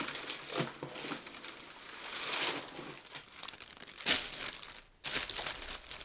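Packing paper crinkles and rustles as it is pulled from a large cardboard box, close and continuous with louder crunching bursts and brief pauses.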